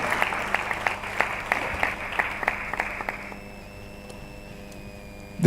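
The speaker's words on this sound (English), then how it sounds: "A round of applause, please, for him if he's here." Sparse, scattered applause from a small audience at a university international week opening ceremony, a handful of distinct claps that thin out and fade to near quiet before a sudden loud noise at the end.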